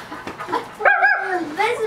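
A small dog whimpers and yips close by, a short high whine rising over voices talking in a home, with a brief bark-like burst in the middle.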